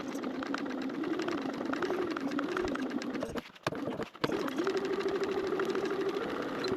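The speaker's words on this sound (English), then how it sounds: "But first, 2 rows of top stitching." A sewing machine runs steadily at close range, putting two rows of top stitching on a backpack. Its whirring hum stops briefly partway through, then starts again and carries on.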